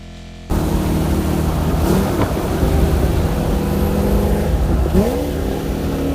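Camaro-like car with a 427 LS7 V8 engine in Split Second, a loud, steady low engine drone cruising at speed with slight pitch shifts, starting abruptly, with no talking.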